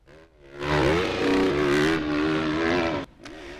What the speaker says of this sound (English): The 101st Annual Great American Pro Championship Motorcycle Hill Climb draws riders from around the country